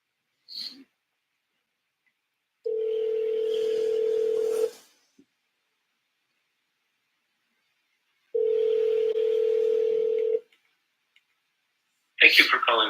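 A phone rings back during an outgoing call, giving two long steady ringback tones a few seconds apart with silence between, loud and clean, followed by a recorded voice answering.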